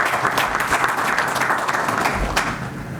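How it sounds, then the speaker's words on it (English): A crowd at a corporate event breaks into loud, dense applause, continuous clapping close by that holds steady for about three seconds with no voices over it. "A round of applause."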